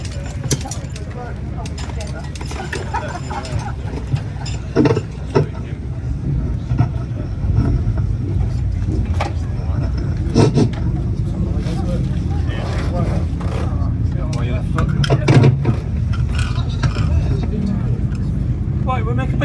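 An Italian motorcycle engine is fired up at an Italian bike show, with loud sputtering mechanical clatter and uneven engine bursts over a constant rumble, with people talking nearby.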